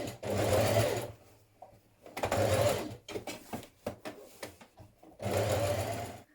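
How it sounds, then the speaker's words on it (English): A sewing machine understitching around the armholes of a dress runs in three close, loud bursts separated by pauses filled with light handling clicks. "Now understitch around your armholes."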